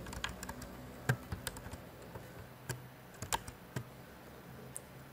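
Computer keyboard keys clatter in a short, irregular burst of taps and clicks, close and fairly soft, as keys are pressed to copy text.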